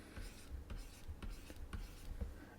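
A number is written out by hand on paper, a quick run of soft scratchy pen strokes close to the microphone.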